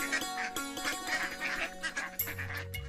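Cartoon ducks by a village pond quacking in a quick run of nasal calls, fairly faint and mixed with background music.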